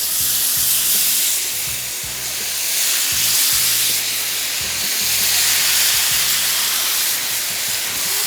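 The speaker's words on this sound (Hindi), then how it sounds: "पैन में हमने चिकन को अच्छी तरीके से मिक्स किया" Chicken pieces fry in a pan for a pizza topping, giving a steady, loud hiss and sizzle with soft clatters from stirring, close by and without any talk.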